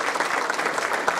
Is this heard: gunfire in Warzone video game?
no